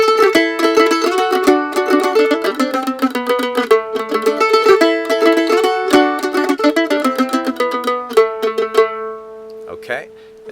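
C part of the bluegrass tune Jerusalem Ridge played on a string instrument, quick bright picked notes in a flowing melody that ends on a sustained note, close and clear.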